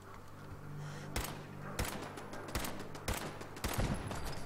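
Pipe rifle gunfire in the Fallout 4 video game, a string of sharp separate shots in an uneven rhythm over steady game background noise.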